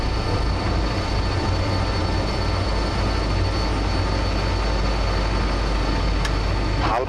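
Albanian Airlines BAe 146-300 airliner climbing after takeoff, a steady loud roar of engine and airflow noise filling the whole stretch, with no change in level and no talk.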